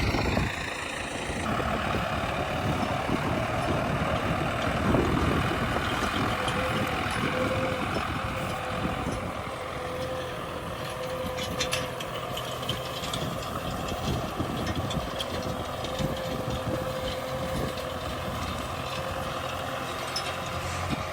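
A tractor engine runs steadily out in a field, ahead of harrowing for moisture retention. The dense, continuous mechanical drone stays loud and close throughout, with no talk.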